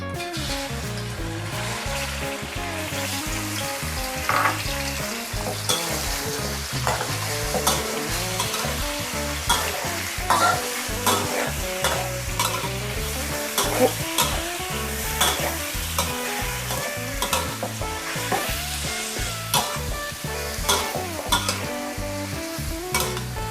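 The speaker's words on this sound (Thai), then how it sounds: "น้ำมันเริ่มร้อนแล้วก็ใส่หมูลงไปเลยค่ะ" Pork belly fries in hot vegetable oil in a pan, a loud continuous sizzle and crackle with stirring and scraping throughout, close up and without talk.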